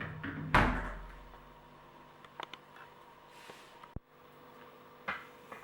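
A glass shower door with a magnetic latch swings shut with one solid thud near the start, followed by a few faint clicks and light taps in a quiet room.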